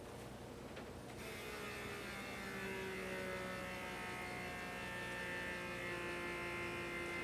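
Small Food Saver hand vacuum pump sealing a spice jar, a faint electric whine that drops low, then rises to a steadier higher pitch and holds it, alone with no talk.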